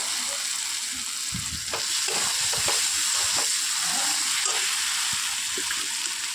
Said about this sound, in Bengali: দিয়ে ভালো করে নাড়াচাড়া করতে থাকবো, মশলার যাতে কাঁচা কোনো গন্ধ না থাকে